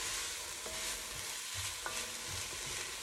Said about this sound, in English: Trying to get some of that frond off the bottom of the